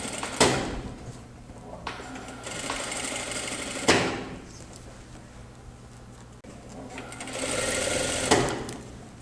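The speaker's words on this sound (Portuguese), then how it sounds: "Então, eu passo uma costura reta bem em cima da overlock." A sewing machine runs a straight stitch over the overlock seam of a trouser leg in bursts of fast rhythmic whirring, with clunks and pauses between runs, heard close up with no talk.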